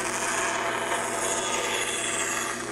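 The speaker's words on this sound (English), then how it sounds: "So I'm gonna kick on the saw here and cut a slot here just real quick." A power saw cuts a slot in wood for an acoustic guitar build, giving a steady, loud, continuous rasping whine without pauses and no voices.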